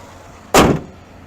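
A single sharp, loud slam as the hood of a 2015 Ford F-150 Lariat with a 5.0 V8 is shut, a sudden thud that decays within about a quarter second, alone against quiet background.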